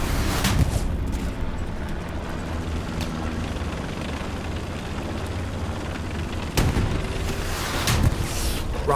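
Rocket artillery strikes in the game Hell Let Loose, with a steady dense rumble of battle and two sharp loud impacts near the end.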